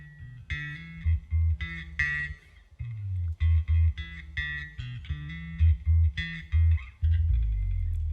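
A band member plays an instrumental solo on an effects-processed, slightly distorted electric instrument. Bright melodic phrases sit over punchy, rhythmic low notes, played alone at moderate loudness without speech.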